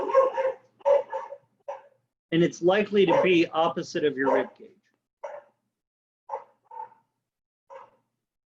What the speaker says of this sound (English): Apologies for the barky dog.